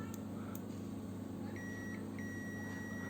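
A Zoyi ZT102A digital multimeter in continuity mode emits a thin, high electronic tone in two short bursts, a steady beep against a constant low hum, with no talk.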